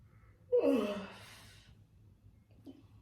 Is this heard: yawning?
yes